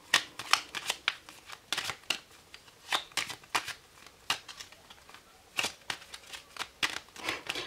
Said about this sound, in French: Je bats les cartes à chaque fois hein